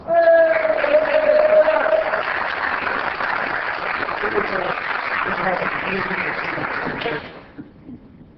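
Applause from the audience at a city council meeting fills the room, a steady clapping that holds for about seven seconds before tapering off abruptly.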